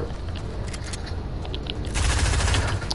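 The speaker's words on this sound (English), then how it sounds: "He has Deadpool's hand cannons." Rapid, dense video game gunfire rattles continuously, growing louder and heavier in the final second, with no voices.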